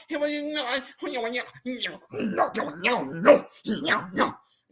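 A voice imitating a growling dog, a string of rough, throaty growls and barking bursts in short uneven phrases, loud and close with brief pauses between them.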